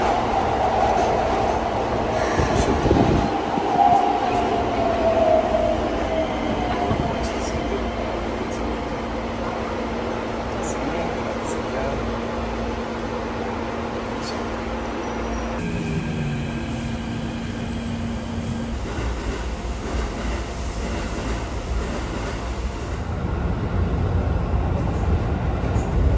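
A train rolling on its rails with a steady rumble and a faint wheel whine, heard from inside a car at close range, with a brief soft voice and a low tone that fades midway.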